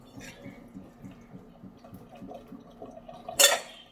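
Acorns are rinsed in a bowl of water, with soft repeated sloshing and dripping, then a sharp clink of a dish or utensil near the end; no talk.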